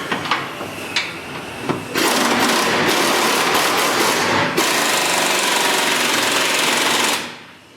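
A 15mm wrench tightens the rear fuel tank bolt on a 1993-2004 Chevrolet S-10 Blazer during fuel pump replacement, with a few sharp metallic clicks at first, then loud continuous rattling and clattering noise for several seconds before it cuts off.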